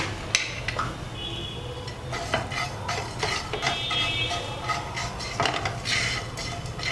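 Poppy seeds and fenugreek are dry-roasted in a pan, with a spoon repeatedly scraping and tapping the metal in an irregular stirring rhythm over a faint background hiss.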